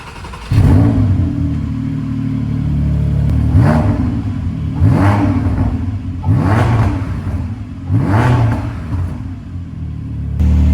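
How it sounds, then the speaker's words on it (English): A Porsche GT4 engine fires up with a deep idle, then several sharp revs rise and fall in repeated bursts, loud and close. "Car sounded good on startup."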